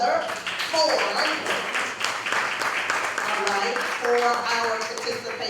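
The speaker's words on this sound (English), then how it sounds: "So let's clap for each other." Scattered clapping from a grief support group under ongoing speech, soft and brief rather than a full burst of applause.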